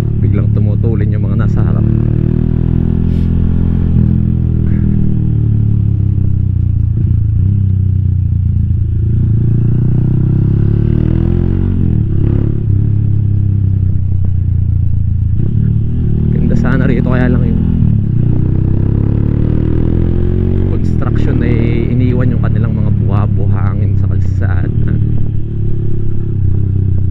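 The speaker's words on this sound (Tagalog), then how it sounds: "Kasing motor na ito pag naririnig ito sa likod biglang tumutulin yung mga nasa harap." A motorcycle with high-rise handlebars rumbles steadily through a test ride, its engine a continuous loud drone with clattering swells, while someone talks over it throughout.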